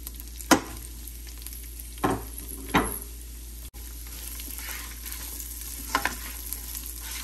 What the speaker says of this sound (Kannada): ಈರುಳ್ಳಿ ಸ್ವಲ್ಪ ಕೆಂಪಗಾಗೋ ತನಕ ಇದನ್ನು ಚೆನ್ನಾಗಿ ಸ್ವಲ್ಪ ಫ್ರೈ ಮಾಡ್ಕೊಳ್ಳೋಣ